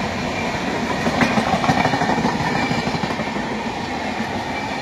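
An express train running from Howrah toward Haridwar gives a continuous rolling rumble with faint clickety-clack of wheels on rails, steady and fairly loud, with no talking.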